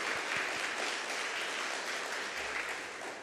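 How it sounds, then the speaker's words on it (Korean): A Sunday worship congregation in a church claps to welcome a visiting guest, a soft, fairly distant patter of hands that stays steady for a few seconds and fades slightly at the end. "우리 박수로 환영하도록 하겠습니다"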